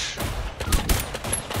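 Rapid automatic gunfire in the spy shooter Deceive Inc, a dense close burst of shots running steadily for the whole moment with no speech over it.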